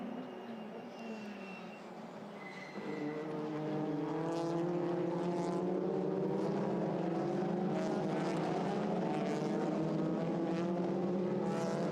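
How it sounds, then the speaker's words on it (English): Audi TCR touring race cars at Hockenheim in a TCR Europe race, their engines droning steadily and building louder as the pack passes, with no talk over the sound. "The two Audis running together, 6th and 7th at the moment."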